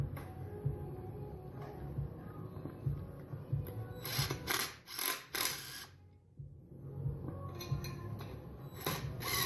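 A ratchet starts the top bolts on a Honda CX500 motor mount, giving a few bursts of quick clicking mechanical bursts in a quiet garage with low hum between them.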